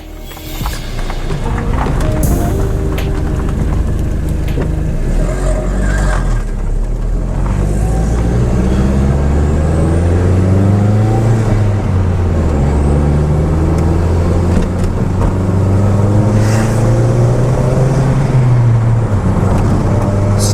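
An Audi TT on coilovers drives on a test run: loud engine drone rising and falling through the gears as it accelerates, with road and wind noise, heard from inside the car.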